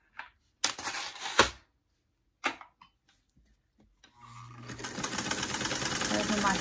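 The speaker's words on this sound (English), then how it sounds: "Those are my clips making a noise." Clips rattle against a vintage Singer sewing machine as it stitches a bag, first as sharp intermittent bursts and then a steady, close mechanical whirring clatter.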